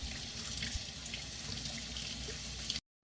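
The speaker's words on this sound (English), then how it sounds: "Meanwhile, I'm washing dishes" Water runs steadily from a tap into a sink during dishwashing, a close, even rushing hiss that cuts off abruptly just before the end.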